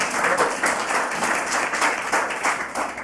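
Sustained clapping from a gathering at a church ministry service inside a women's prison, a fairly even, moderately loud wash of many hands with no talk over it.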